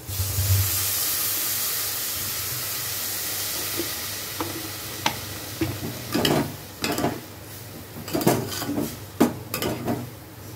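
Water poured into a hot pan of dalia bursts into a loud hissing rush of steam that fades, followed by clinking and scraping of a spoon stirring against the pan.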